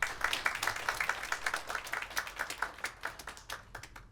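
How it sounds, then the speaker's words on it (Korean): An audience at a winter academic conference session claps together, a moderate burst of applause that keeps going steadily and gradually thins out toward the end. "박수 한번 부탁드립니다"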